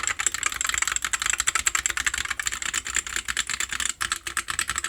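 Fast, steady clacking of keys typed on a Redragon K736 PRO keyboard, close and crisp with dense rapid strokes and no talking.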